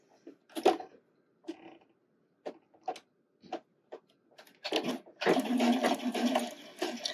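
A home sewing machine running a basic straight stitch seam with a 1/4 inch allowance on bra fabric, starting with short isolated ticks and clicks, then breaking into a sustained mechanical whirring run near the end, close and clear.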